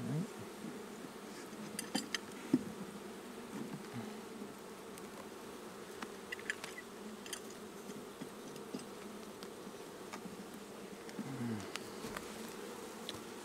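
Honey bees buzz steadily around an open homestead hive, a constant low drone with individual bees passing close now and then.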